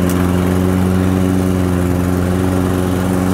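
A Toro all-wheel-drive lawn mower, model 20353, runs loud and close with a steady engine drone and strong low hum that holds evenly as it sets off cutting grass.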